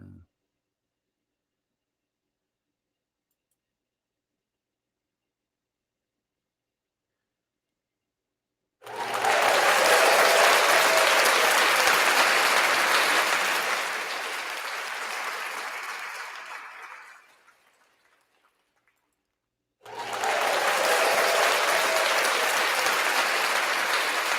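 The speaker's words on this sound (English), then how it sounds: "were you able to hear that applause?" Studio applause from an audience, two bursts of dense clapping after near silence: a long loud swell that fades away, then a second burst starting abruptly near the end.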